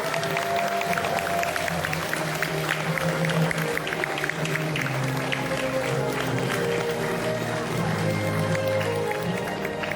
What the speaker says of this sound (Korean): 여러분, 이 청년들에게 힘찬 박수 보내주시기 바랍니다